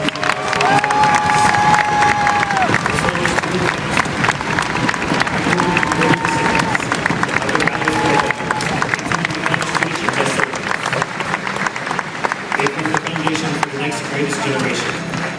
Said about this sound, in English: let's give these soldiers a round of applause for such a great job